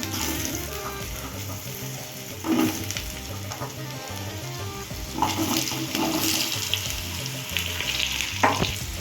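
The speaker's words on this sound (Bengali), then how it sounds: "এবার কড়াইয়ের মধ্যে একে একে ছেড়ে দেবো আলুগুলোকে।" Potatoes fry in hot oil in a wok seasoned with whole cumin, a steady crackling sizzle with occasional louder pops and stirring clatter, close and without talk.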